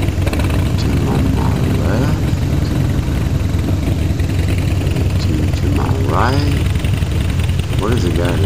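Harley-Davidson motorcycle engines rumbling at a steady low idle, a continuous loud drone that never lets up, with a few brief voices rising over the engine noise.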